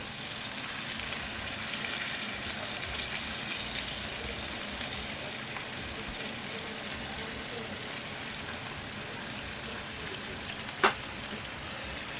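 Chicken stock pours and sizzles steadily over a hot roasting chicken, a continuous hissing crackle with one brief sharp click near the end.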